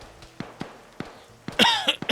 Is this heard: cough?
yes